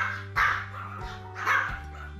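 Pomeranian dogs bark in two close, loud bursts about a second apart over a steady low hum, with no talk.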